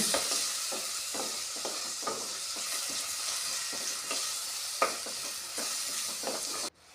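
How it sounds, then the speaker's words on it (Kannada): Onions sizzle steadily in hot oil for tempering, with repeated scraping stirs of a spoon across the pan, close and continuous. "ಒಗ್ಗರಣೆ ಒಳಗೆ ಫ್ರೈ ಮಾಡಿಕೊಳ್ಳಿರಿ"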